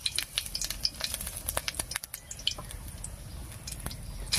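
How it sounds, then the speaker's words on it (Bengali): Dried red chillies and whole cumin seeds spluttering in leftover oil from frying kakrol (spiny gourd), a steady crackling sizzle with scattered pops and occasional stirring scrapes, close and moderately loud with no talk. "শুকনো লঙ্কা আর জিরাটা ভাজা হয়ে গেছে"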